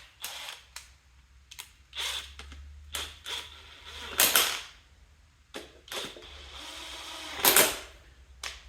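A ratchet runs bolts into a pump during a Blazer build, snug but not torqued. It gives up-close bursts of quick mechanical clicking separated by short pauses, some louder clacks among them.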